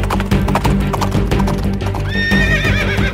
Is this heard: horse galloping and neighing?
yes